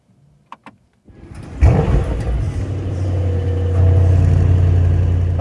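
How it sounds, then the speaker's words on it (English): A Mercedes S63 AMG V8 fired up aggressively while holding the downshift: a couple of faint clicks, then a loud sudden cold-start roar that settles into a deep, steady, rumbling idle. "I will start the engine by holding the downshift, and in this way it will start in a very aggressive way"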